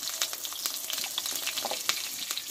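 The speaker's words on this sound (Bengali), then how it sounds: "এবার বেগুনগুলোকে আমি কষে নিব" Eggplant pieces fry in white oil in a wok with a little turmeric, giving a close, crackling sizzle broken by a few sharp stirring scrapes.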